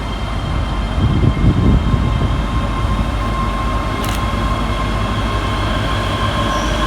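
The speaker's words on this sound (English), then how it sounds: "Got a ECS HST coming through" An empty coaching stock HST train passes through Edinburgh Haymarket station in rain, its loud, steady rumble of wheels and engine filling the air with a brief rise early on and a faint high squeal later.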